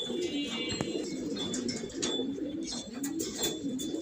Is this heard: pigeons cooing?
yes